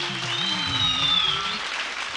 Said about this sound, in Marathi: जोरदार टाळ्या विजेत्या संघासाठी.